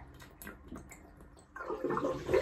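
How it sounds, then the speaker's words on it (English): Water drains out of a sink after a shave: scattered soft drips and trickles at first, then a louder, steady gurgling rush over the second half. "Let the water drain out, and then we'll rinse off."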